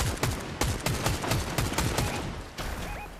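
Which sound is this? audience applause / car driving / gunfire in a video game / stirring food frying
gunfire in a video game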